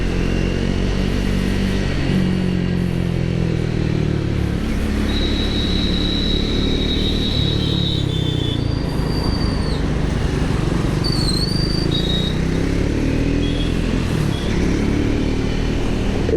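A Triumph Speed 400 motorcycle's engine drones steadily while being ridden, a close, continuous mechanical hum with shifting pitch and occasional high whistling tones riding above it.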